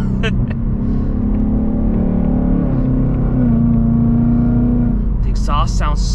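Deep, loud rumble from the long tube header exhaust of a 2024 Mustang GT with active exhaust, heard from inside the car as the engine holds steady revs, then shifts, with sharp pops toward the end.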